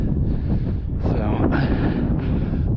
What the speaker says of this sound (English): feels good up here with the wind